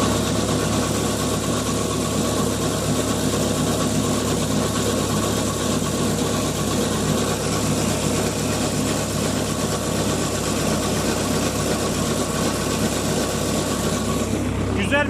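A New Holland T580B tractor runs at steady throttle while spreading fertiliser on rose fields, a loud, constant diesel drone close by, and a voice speaks over it at times.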